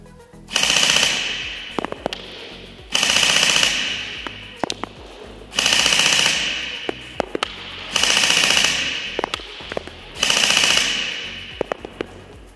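An Evolution Recon UX4 10-inch metal airsoft rifle fires BBs at a 60-metre range in five regular automatic bursts, each a sharp rattling volley about two seconds apart, with faint clicks and thuds between them and no speech.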